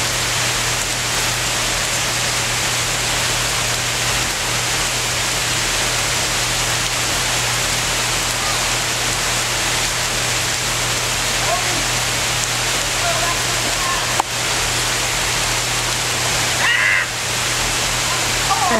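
Steady rain hissing down outdoors while young children play and get soaked, a constant wash of noise with a low hum beneath and a few faint distant sounds.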